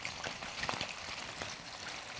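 Close, steady sizzling and crackling of food frying in hot vegetable oil, a dense hiss with small pops scattered through it.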